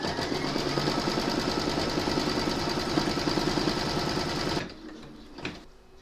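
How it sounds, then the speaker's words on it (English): An embroidery machine stitches a securing outline round on a hooped liturgical bellpull runner, a fast steady mechanical chatter running loud and close for several seconds before stopping abruptly, followed by a few faint handling clicks. "Pop your hoop into your machine and stitch round number 2 to secure it."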